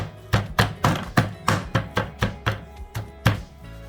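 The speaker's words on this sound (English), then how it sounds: "I am old school, so I like to beat my scallions" Scallions for Jamaican curry goat are beaten on a board with about a dozen heavy, close thuds in a steady rhythm, each with a short dull knock.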